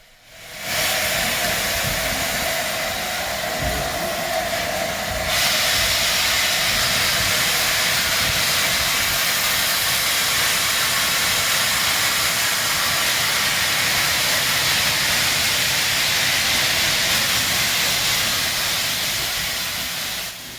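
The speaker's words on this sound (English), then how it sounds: "the pair of 462 locomotives back carefully down onto their train." Loud, steady steam hissing roars continuously, broad and unbroken, with a low rumbling undertone from a pair of steam locomotives backing onto their train at an East Lancashire Railway steam gala.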